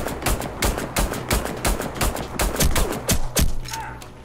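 Rapid gunfire in the video game Warface, a string of sharp, loud close shots in quick bursts with brief gaps, about a dozen reports over a few seconds.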